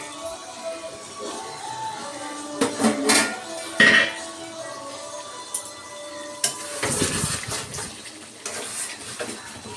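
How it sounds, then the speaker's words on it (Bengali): A metal lid lifted off a pot of mutton kosha simmering on the stove gives a few clinks and scrapes, with a soft sizzle and bubbling from the cooking meat underneath and no talking. "আমি আবারও একটু ঢাকনাটা সরিয়ে দেখে নেবো যে মাটনটা কতদূর কষানো হলো।"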